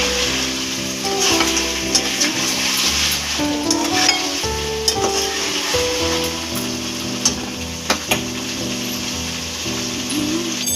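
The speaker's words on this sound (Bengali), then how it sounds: "এবার দেবে আদা বাটা। আবার ভালো করে নাড়াচাড়া করবে।" Ginger paste for chicken curry fries and is stirred in a pan: steady crackling sizzle with repeated sharp spatula scrapes and taps, close and clear, while background music plays and no one speaks.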